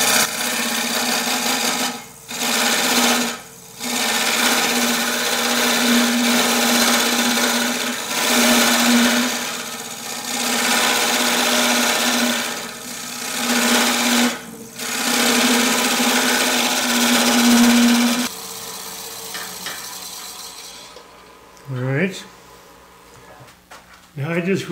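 American Beauty wood lathe turning a wooden cube, a loud, steady motor hum with tool scraping and rasping against the spinning block, several short pauses, then the machine winds down near the end.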